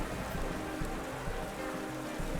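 Steady rain weather effect from a Pokémon video game battle, a continuous even patter of falling drops filling the whole stretch at moderate level with no talk over it.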